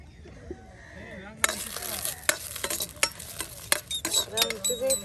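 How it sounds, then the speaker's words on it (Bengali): Dried red chillies fry in oil in a village kitchen, and the loud sizzle begins abruptly after a brief spoken moment. Sharp scrapes and clinks of stirring punctuate the frying, with voices talking in the background. "এই যে আপনার এখন কিন্তু শুকনা মরিচ ভেজে নেওয়া হচ্ছে।"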